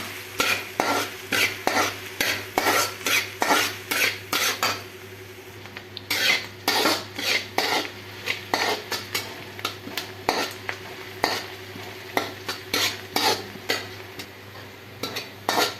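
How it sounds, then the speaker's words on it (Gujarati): Chopped onion frying in oil in a kadai, stirred steadily with a utensil scraping the pan, giving repeated sharp clinks and scrapes over a continuous sizzle. "डूंगळी नाख्या बाद एने थोड़ी गोल्डन ब्राउन थाय त्यां सुधी एने शेकावा देवानी छे।"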